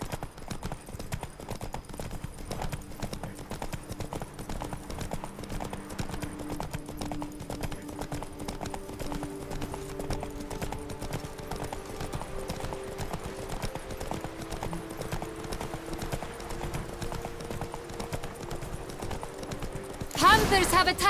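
A horse gallops in the video game The Witcher 3 with a steady, fast clip-clop of hooves throughout, alongside game sounds and voices, with a louder burst at the end.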